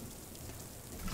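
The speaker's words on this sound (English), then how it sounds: "It's raining." Rain falling in the video game Death Stranding, a steady soft wash of drops with a low rumbling undertone, brief and even.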